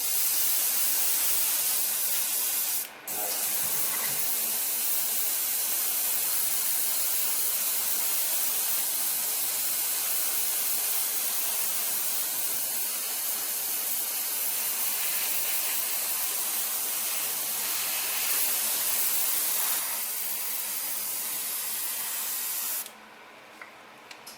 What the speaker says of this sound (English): Just surfacing these parts here.